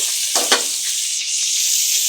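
Koi fish wrapped in bottle gourd leaves sizzle steadily in a frying pan once the lid is lifted, a bright, close crackling hiss with a couple of soft knocks.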